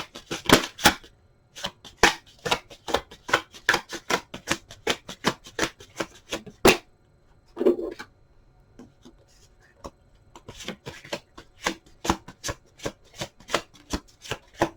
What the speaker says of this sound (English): gotta shuffle live on camera